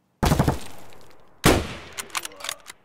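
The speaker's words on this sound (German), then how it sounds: "Ein klassischer Schuss." Two sharp gunshots in Escape From Tarkov, each a loud close crack with a long decaying echo, the second followed by several quieter scattered impacts or distant shots.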